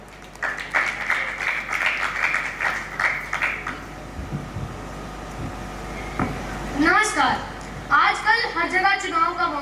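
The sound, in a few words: audience applause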